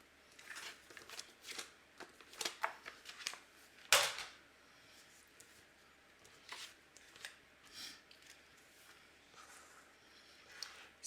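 A paper trimmer or scissors slices through cardstock for handmade cards, producing a few quiet crisp cuts and shuffling handling noises, with one sharp louder snap partway through and softer rustles afterward.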